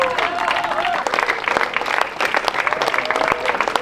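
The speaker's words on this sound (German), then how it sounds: "Das Stück endete unter dem begeisterten Applaus der Premiere-Gäste." A premiere audience applauds enthusiastically at the end of an open-air theatre play on the Rhine, with dense, sustained clapping from a crowd and some voices mixed in.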